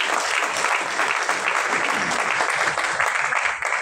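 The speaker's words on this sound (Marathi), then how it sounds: "तेजस्विनी आणि वर्धासाठी सुद्धा जोरदार टाळ्या" Loud, sustained applause from an audience at a Marathi film trailer launch, a dense wash of clapping that holds steady for several seconds and eases slightly at the end.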